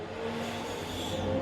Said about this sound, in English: there is a truck outside that is really loud